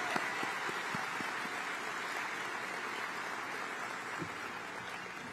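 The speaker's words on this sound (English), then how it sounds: "Let's give him a round of applause." Applause from a crowd honoring Senator Dick Durbin at a political event, heard as a steady, fairly distant wash of clapping with a few sharper individual claps near the start.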